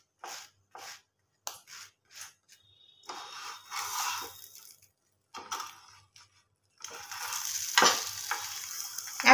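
A sandwich made with a half-boiled egg fries in butter in a pan, with short bursts of sizzling and spatula scrapes separated by near silence, then a louder continuous sizzle toward the end.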